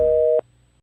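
A single steady busy tone on an unanswered phone call, one short beep lasting under half a second and then cut off into silence.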